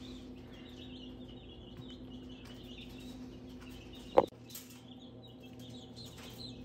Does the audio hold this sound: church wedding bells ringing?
no